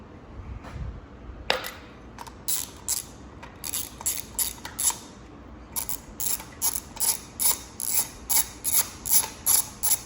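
A ratchet tightens new spark plugs in a K24 engine with a close run of crisp, regular clicking bursts, starting sparse and becoming a steady back-and-forth rhythm.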